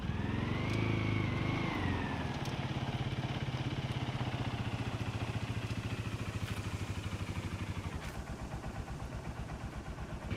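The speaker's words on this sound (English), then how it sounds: "I hear another car." A car engine in a video game drones steadily nearby, a rough mid-pitched hum that rises briefly, then settles into a rhythmic chugging idle or slow drive, with no talk.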